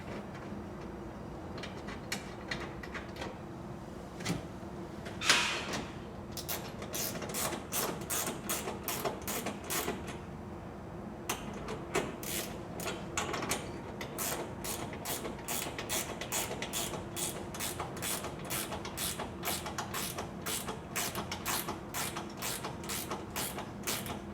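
A wrench tightens bolts on a truck deck rail clamp with an F channel in place, giving fast, steady ratcheting clicks in long even runs, close up, over faint background noise and without speech.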